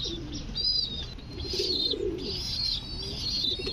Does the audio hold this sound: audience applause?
no